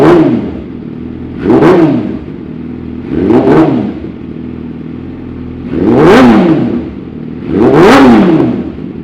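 A 2012 Yamaha R6 sports bike fitted with an M4 exhaust revs hard four times from idle, each loud, rising-and-falling blip separated by a steady close-up idle.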